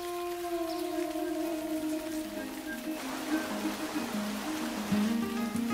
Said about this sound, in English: What is a tropical garden without tropical rain?